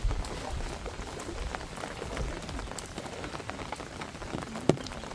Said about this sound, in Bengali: ভালোই বৃষ্টি হয়েছে,